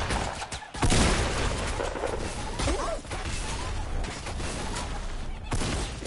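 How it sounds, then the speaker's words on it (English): Repeated grenade explosions in a video game make dense, loud booms and crashing blasts layered over continuous gunfire and game noise, with players talking throughout. "It's grenade spam, man."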